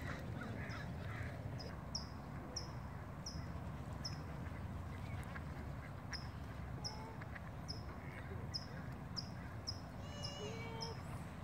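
Outdoors in the USA, a mallard duck quacks now and then and crows caw as short, faint calls spread across a steady background hum of wind or distant traffic.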